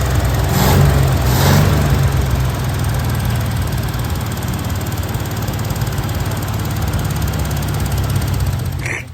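A flat fender Jeep engine runs steadily after a distributor change, its carburetor still untuned. It idles loud and close with an even, low rumble and rough knocking pulses, two sharper revs near the start, then fades out at the end.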